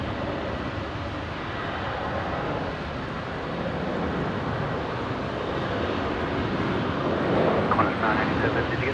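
A Qantas airliner on flight 627 to Melbourne roars on takeoff at Brisbane airport, a broad steady rumble swelling slightly toward the end, with a voice talking faintly over it.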